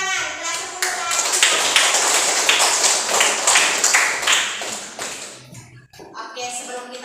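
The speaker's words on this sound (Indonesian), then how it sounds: "Tepuk tangan, kelas 10 tadi." A classroom of tenth-grade students claps hands together in a sustained burst of fairly loud, close clapping that fades out toward the end, then a brief further patter.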